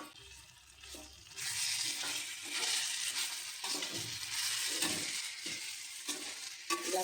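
Bitter gourd, tomato and garlic curry with chili powder is stirred in a hot pan, giving a steady sizzle with repeated spoon scrapes throughout and no voices.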